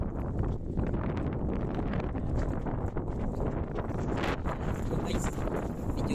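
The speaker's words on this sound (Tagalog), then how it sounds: "medyo mahangin-hangin din dito" Strong wind gusts buffet the microphone at the seaside beside a fishing boat, a continuous roaring rush with rustling bursts that runs throughout the clip.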